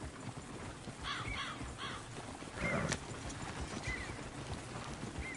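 Horse hooves clip-clopping in a PS4 video game, a faint steady plodding rhythm under a busy game soundscape with brief bird calls and a short louder burst midway.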